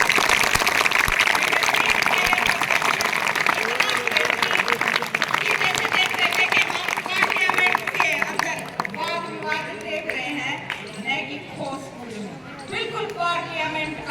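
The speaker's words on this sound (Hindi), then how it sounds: "इतनी ज्यादा जोरदार तालियां होनी चाहिए" Loud, sustained applause from a crowd of students at a school debate competition, dense clapping filling the first half before thinning into scattered claps with voices and cheers.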